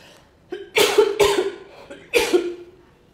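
A person coughs nearby in three harsh, forceful bursts, two in quick succession and a third after a short pause, loud and close with no talk over them.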